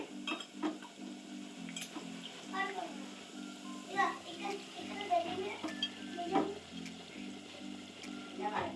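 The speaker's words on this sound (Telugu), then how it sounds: "ఇప్పుడు ఇంకా చికెన్ ఆ గ్రేవీలో వేసుకోవడమేనండి" Chicken cooking in gravy in a pan, with a low sizzle and intermittent stirring scrapes and clinks, fairly faint, while a steady hum runs underneath and voices are heard in the background.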